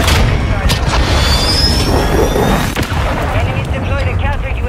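Artillery strike explosions in Call of Duty Modern Warfare 3 hardcore domination, a dense, continuous barrage of booms and blasts rolling loudly throughout, with voices talking over it.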